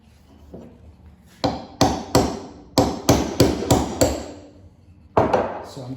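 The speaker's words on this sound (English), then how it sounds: "take your hammer and hammer that so that way you don't have to worry about accidentally denting the wood" A hammer drives nails into a wooden stretcher frame, striking in quick clusters of sharp, close, ringing blows separated by short pauses, with no talk.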